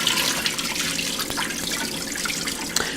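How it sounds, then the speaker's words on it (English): Water drains and trickles off fresh fish fillets being prepared for vacuum sealing, a steady close splashing wash with no talking. "why are you draining a whole bunch of water off your fish fillets?"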